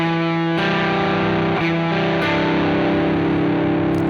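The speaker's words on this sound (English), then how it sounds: "sounds really great with this dirty distortion" A distorted electric guitar chord rings out, then is restruck and shifts a few times, thick and gritty, sustaining loudly with no voices.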